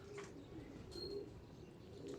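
Male pigeons cooing in a loft, a low soft repeated gurgling coo that runs steadily throughout, faint and close, with a few light chirps over it.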